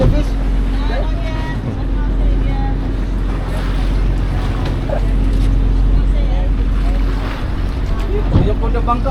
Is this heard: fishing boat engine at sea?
yes